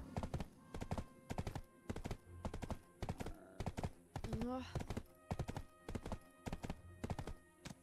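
Horse hooves clip-clop steadily at an even trotting rhythm in the video game Black Desert, with a brief whinny partway through and a single short spoken word over the hoofbeats.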